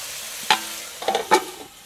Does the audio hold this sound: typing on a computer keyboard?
no